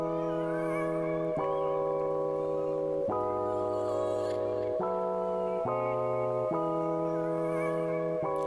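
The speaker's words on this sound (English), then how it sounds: "I'll have these vocal samples, but playing them together sounds like this" Layered vocal samples play together in a beat, a sustained harmonic chord-like pad shifting pitch every second or so, fairly quiet and steady with no talking.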